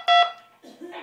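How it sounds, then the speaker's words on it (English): DTMF tones passed through a Baofeng UV-5R radio set up as a repeater: a short, bright keypad tone followed by a gap and a second, rougher, buzzier burst, heard alone. "it also passes DTMF codes like this"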